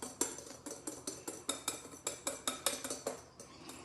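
Dark chocolate mousse is whisked by hand in a bowl, a close, rapid run of metallic ticking and scraping strokes in a steady rhythm, each stroke a bright clink against the bowl.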